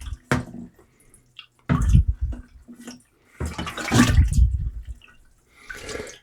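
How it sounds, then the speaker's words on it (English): Date wine must is swirled inside a one-gallon container, and the liquid sloshes and gurgles in several loud surging bursts separated by brief pauses, heard close up. "I'm going to give it a good little swirl"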